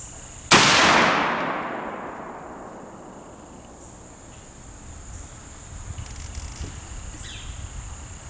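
Knight black powder rifle fired once outdoors, a sharp loud crack followed by a long rolling decay, then quiet background with faint insects chirping.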